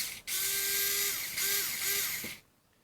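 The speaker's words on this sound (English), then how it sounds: "we're going to play around with powered screwdriver we picked up and we're trying out here" A powered screwdriver whirs in three loud, close bursts while taking apart a Milwaukee ratchet, a high buzzing tone that slows and drops in pitch as each burst ends, followed by quiet.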